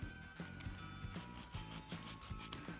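A nail file rasping across fingernails in quick, steady back-and-forth strokes, faint and close with no talking.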